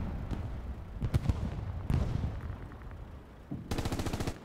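Gunfire and blasts ring out during a competitive shooter match around a brewery area, with sharp cracks, a heavy boom and a closing rapid burst of automatic fire, moderately distant and without talk.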